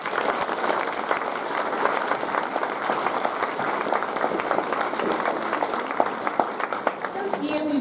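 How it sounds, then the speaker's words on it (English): A school prize-giving audience claps for staff in a big round of applause, a broad, steady rattle of many hands that holds loud and even throughout with a faint murmur beneath. "Let's give them a big round of applause."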